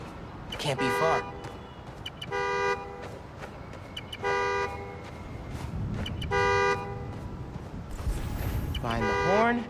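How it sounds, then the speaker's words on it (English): Repeated car horn honks in Marvel's Spider-Man: Miles Morales, set off by a key fob to locate a parked car, ring out in four or five regular bursts over street ambience, with a voice speaking in between. "Now I can use the fob to find the car."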